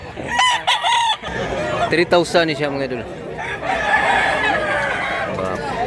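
Several roosters crow and hens cluck nearby amid a busy crowd at a poultry market in Mantalungon, Cebu, with people talking over the birds.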